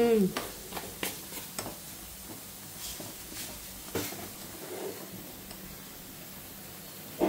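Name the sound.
fenugreek seeds sizzling in hot oil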